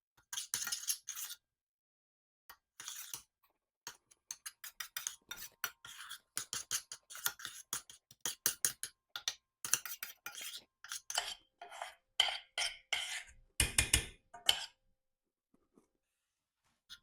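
Cornstarch and plant powder stirred together in a bowl for solid shampoo, heard as quiet, close scraping and rasping strokes in irregular bursts, with no voices.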